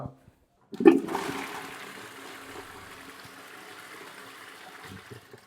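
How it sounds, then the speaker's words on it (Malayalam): A newly fitted Jaquar wall-hung toilet flushes with a sudden loud rush of water that settles into a steady, close gush and trickle lasting several seconds, with no talking. "ഇനി നമുക്കൊന്ന് ഫ്ലഷ് ചെയ്ത് നോക്കാം."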